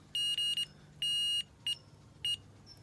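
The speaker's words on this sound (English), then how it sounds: "with a continuity meter, you can test for continuity" A continuity meter gives sharp high-pitched beeps in short and longer bursts with gaps between them, fairly faint over a quiet background.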